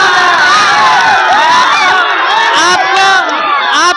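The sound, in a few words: large rally crowd cheering and shouting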